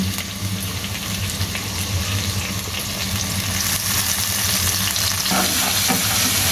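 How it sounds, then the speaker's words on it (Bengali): Mung and black gram dal frying in soybean oil, a loud, dense, continuous sizzle with stirring scrapes, the hiss growing slightly fuller toward the end, with no speech. "তেলে আমি ডালটা ভেজে নেব।"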